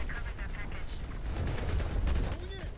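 Gunfire in Battlefield Hardline, rendered as a continuous crackle of overlapping shots and bursts over a low rumble, moderately loud, with a voice heard intermittently.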